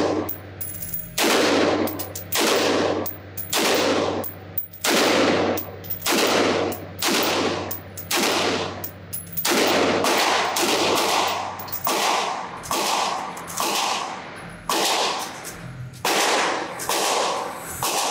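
A Sig Sauer MCX-Spear LT 5.56 pistol with an 11.5-inch barrel fires at a shooting range in loud, close strings of rapid shots, with short pauses between the bursts.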